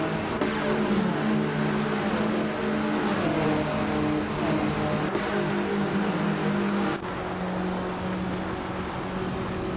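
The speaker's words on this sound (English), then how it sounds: "Bot Ovidus has just overtaken Bot Hellskank to take the lead" Race car engines in a racing video game rev and whine steadily at high pitch, several cars droning together with shifting tones and a brief gear change midway, loud and continuous without talk.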